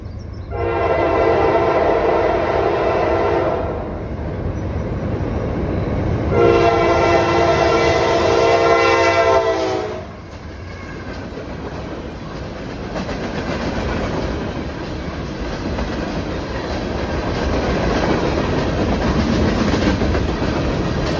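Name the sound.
freight train horn and passing train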